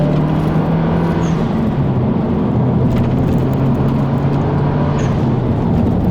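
A 2.3 liter turbocharged front-wheel-drive Mazdaspeed 3 hums steadily from inside the cabin while driving, a loud constant engine drone with road rumble and no speech.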